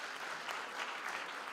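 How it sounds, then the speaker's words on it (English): A graduation audience applauding a sign language interpreter, dense even clapping from a large crowd, heard at moderate distance and fairly quiet throughout. "Can you also give her a round of applause?"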